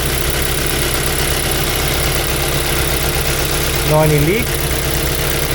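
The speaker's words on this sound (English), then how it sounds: "car is running fine, no any misfiring, it's all good" A Mazda 3 engine idles smoothly after its fuel injectors have been cleaned, giving a steady, even hum while someone talks over it.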